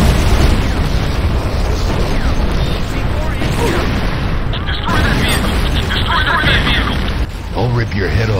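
A Nod Obelisk structure blows up in the game Renegade, heard as a heavy boom inside constant loud battle noise with continuous gunfire and other explosions.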